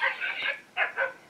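An electronic children's storytelling toy plays a dog sound: a drawn-out whiny yelp followed by two short yips, clear and close, with no one speaking.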